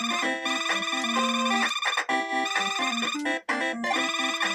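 A phone ringtone plays during a Duck Tales game session, a loud repeating electronic melody of bright tones with brief gaps, steady and close with no talking.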